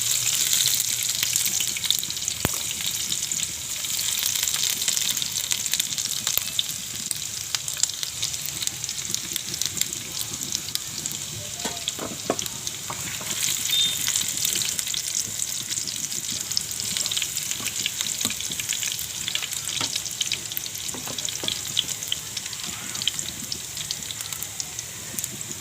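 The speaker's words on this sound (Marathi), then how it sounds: "लसूण फ्राय झाली आहे" Garlic frying in oil with mustard seeds and cumin for rava upma, a sustained bright sizzle with frequent small pops and crackles throughout, close up and without speech.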